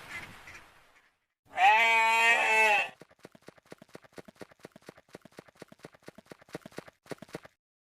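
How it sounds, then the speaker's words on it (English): A domestic farm goat gives one long, wavering bleat, followed by a quick run of sharp, regular clicking taps that slowly fade out. "goat,"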